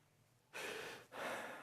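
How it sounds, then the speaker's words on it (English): Two deep, audible breaths drawn in close to the microphone, quiet and airy, as a speaker demonstrates ordinary breathing. "But this is how we're used to breathing."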